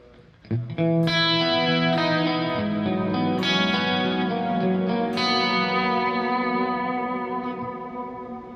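Electric guitar played through a Bogner amp model and cabinet on a Nano Cortex, dialed for an ethereal 1980s tone: loud, sustained chords and ringing notes washed in chorus, echo and reverb, steady and alone.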